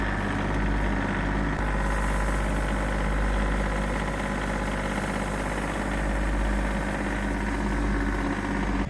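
A heavy Michigan 125 loader stuck in mud runs its diesel engine steadily near the microphone, a loud continuous low rumble with a knocking throb that never pauses.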